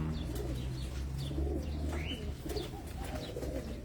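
Pigeons coo repeatedly on a rooftop in Abu Dhabi, soft low calls rolling over a steady background hum, with a few higher chirps scattered through.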